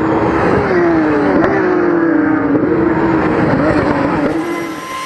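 Porsche Cup Type 992 race cars at the Paul Ricard circuit, a loud, continuous engine roar with a steady sustained pitch that shifts slightly as the cars run close by, fading a little at the end.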